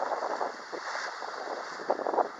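Sailboat running downwind in calm conditions under full main and partial jib, a steady broadband wash of water and wind with soft swells rising and falling, no voices.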